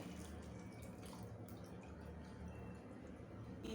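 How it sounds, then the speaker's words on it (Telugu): Tamarind water pouring into a pot of mirchi ka salan curry, a steady soft liquid splash lasting several seconds, faint and close with no talking. "దీంట్లో చింతపండు పులుసు పోసుకోవాలి."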